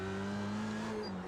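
An F3 race car in a racing video game, its engine holding a steady high-pitched whine at speed and dipping slightly as the throttle eases.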